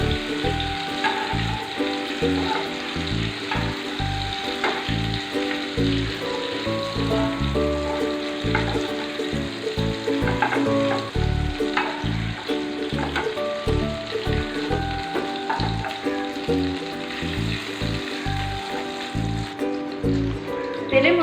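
Prawns stirred and frying in hot oil in a pan, a steady dense sizzle with rhythmic stirring and scraping throughout, loud and close.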